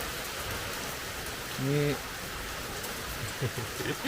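Steady rain falls across a durian orchard, a continuous soft hiss with a short voice heard partway through.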